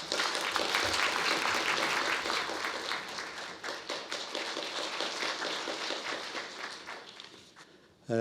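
An audience applauds to welcome the deputy secretary-general of the National Assembly at a humanities academy lecture, a dense, steady wash of many hands clapping for about eight seconds before thinning out near the end.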